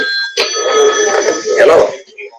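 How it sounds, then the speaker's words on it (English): A telephone bell rings steadily in a busy home office at the Hart House, headquarters of a family-run Stampede Wrestling promotion, with a voice talking over the ringing. "The phones never stopped ringing at the Hart House"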